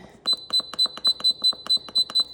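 Oster upright bread machine timer button clicked repeatedly, each press giving a short high electronic beep, ten evenly spaced beeps at a brisk steady rhythm, close and clear with no talking.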